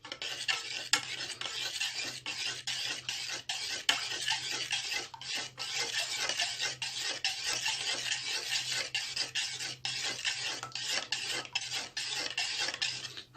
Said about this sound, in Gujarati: આને બરાબર મિક્સ કરી લઈશું.